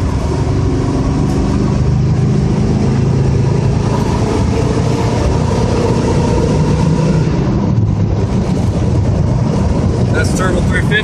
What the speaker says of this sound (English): If I take her out right here, it's full throttle, wide open.